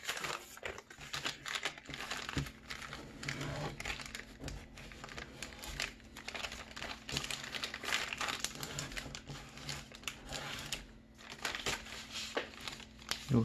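Paper is folded and creased by hand to make a gift box, giving continuous close crinkling and rustling with sharp creasing snaps throughout.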